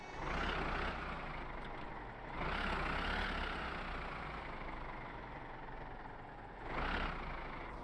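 A car engine in the video game My Summer Car runs with a steady low rumble that swells in three revving surges over a constant droning hum, with no talking.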